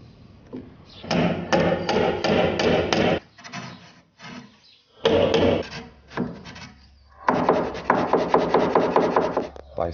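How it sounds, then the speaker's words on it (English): Rhythmic rasping strokes of hand sanding on wood come in several bursts, with short pauses between sets of back-and-forth rubbing. "Sanding these right now"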